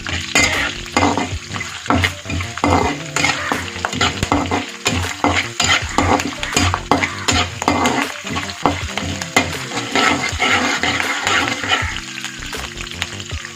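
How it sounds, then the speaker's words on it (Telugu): Lemon rice seasoning frying with curry leaves in a pan, a steady loud sizzle broken by frequent clinks and scrapes of a stirring spoon against the metal throughout. "ఈ విధంగా మనం బాగా ఫ్రై చేసుకుందాం"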